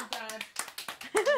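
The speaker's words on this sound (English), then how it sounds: "Come on, clap." A family at Christmas claps for Dad, a handful of uneven, nearby claps with voices talking over them and a brief cheer at the end.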